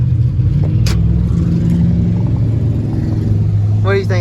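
A Shelby's engine rumbles loudly and steadily up close, with a deep low-end drone, and a voice briefly speaks over it near the end.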